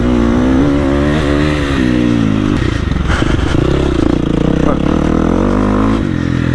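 A motocross motorcycle on a track roars loudly and close, its engine pitch rising and falling as it accelerates, with rattling and scraping noises mixed in.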